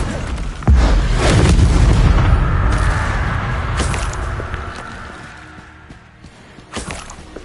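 An Incendio fire spell goes off in a video game as a loud whooshing boom that swells and then fades over several seconds, with a smaller thump near the end.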